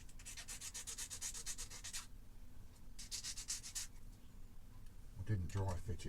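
Nail file rasping back and forth on a small plastic part of a Revell 747 scale model kit, bursts of quick close strokes separated by pauses, with a voice briefly at the end.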